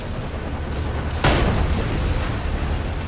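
Vehicle cannon fire in the Sand Land video game, a sudden loud blast bursting out about a second in and rolling into a sustained rumble over a constant battle din.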